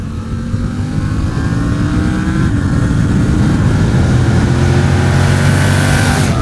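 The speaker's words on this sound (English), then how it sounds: "acceleration is just fine enough, and you got this lovely shift assist." A 2024 Triumph Tiger 900 Rally Pro adventure motorcycle with shift assist accelerates, its loud, close engine drone climbing steadily in pitch over several seconds.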